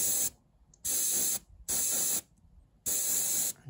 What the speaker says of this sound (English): I'm spraying about 40 to 50 psi, so quite high. I'm just doing these short, sharp bursts.